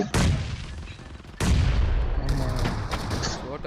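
Loud shotgun blasts in the video game PUBG during a team deathmatch tournament, two heavy booming shots with long rumbling tails, the second followed by further crackling gunfire.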